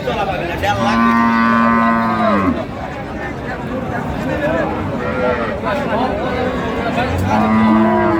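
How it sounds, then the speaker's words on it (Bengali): Cattle, including a cow with her calf, moo loudly and repeatedly amid a busy outdoor crowd, with people talking all around at the Raniganj cattle market. "আর আমরা দেখছিলাম এখানে একটি গাভী বাছুর দেখছেন বেলাল ভাই।"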